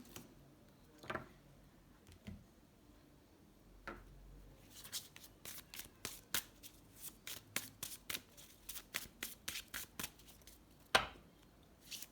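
Tarot cards are shuffled close by, starting with a few soft riffles and then turning into a quick run of crisp card flicks and snaps. The sound is fairly quiet overall.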